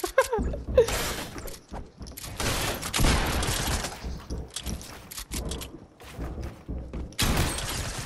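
SMG fire in the Fortnite video game, loud rapid bursts of shots that repeat in several separate volleys with short pauses between them, with some thuds mixed in.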